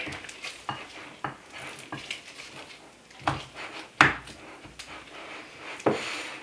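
Soft jalapeno popper filling mashed in a bowl with a utensil, giving irregular soft thuds and scrapes along with light clinks against the bowl, close up and at a moderate level with no talking.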